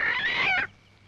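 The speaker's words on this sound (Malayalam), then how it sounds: "നല്ല കോഴിയാ." A chicken gives one short, close, throaty cluck-like squawk lasting under a second, followed by quiet.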